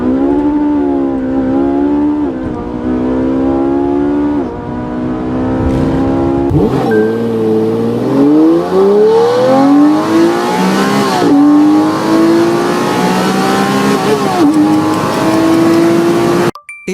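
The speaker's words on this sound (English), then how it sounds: "It's the Lamborghini Murcielago." A Lamborghini Murcielago on launch control, its engine held at a loud, strained, rising rev for a long stretch before cutting off abruptly at the end.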